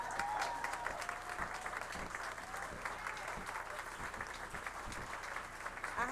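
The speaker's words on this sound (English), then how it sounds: "let's give a big round of applause to our very own Dr. Deidre Thomas Murray and her incredible students in transition team" Audience applause at a public school board meeting, a sustained steady round of many hands clapping together, moderately distant and fairly even throughout.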